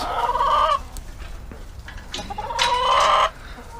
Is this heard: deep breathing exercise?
no